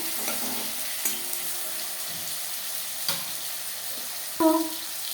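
Onion, tomato and a bay leaf frying in hot oil for an aloo chicken curry, a steady low sizzle throughout with a few sharp stirring clinks and a brief louder scrape near the end; no talking.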